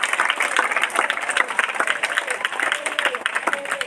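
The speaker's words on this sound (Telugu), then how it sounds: "ఇంకా గట్టిగా గట్టిగా చప్పట్లు కొట్టి దేవుని నామాన్ని మహిమపరుస్తాం" A church congregation claps loudly and fast during a Good Friday evening service. The rapid dense clapping is close and continuous, and voices are mixed in among the applause.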